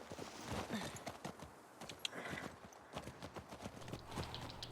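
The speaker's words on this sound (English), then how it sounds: "Okay, so riding the horses here" Horse hooves clip-clop at a riding pace in The Last of Us Part II, a steady run of hoof strikes on ground, moderately close with faint background ambience.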